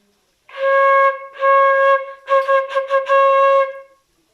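Solo flute holding a steady, bright C, repeated three times, the last one with a slightly wavering, articulated attack before fading.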